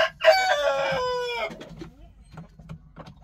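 A rooster crows loudly and close by in a farm coop where chickens and roosters are moulting, followed by softer scattered clucking from the flock.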